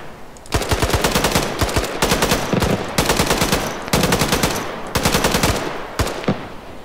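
Automatic weapons fire in bursts in MAV, a 1980s Mujahideen-era shooter, several loud sustained volleys separated by brief pauses, close and dominant with no talking.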